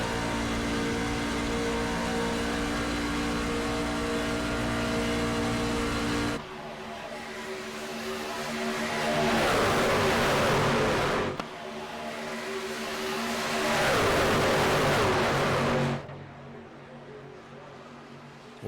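Pickup truck engines roar at full throttle in an aspirant-division race at Daytona, a loud sustained drone that swells twice as trucks sweep close past, then drops away.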